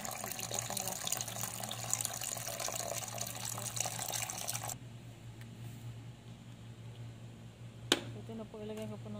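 Running water rinses chicken backbones with vinegar, a loud steady tap gush that stops partway through, leaving quieter wet handling sounds and a sharp knock.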